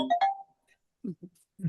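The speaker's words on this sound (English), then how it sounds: "Sorry, I keep getting phone calls" An incoming phone call rings as a short two-note electronic chime at the start, fairly clear and close, before a voice begins speaking briefly.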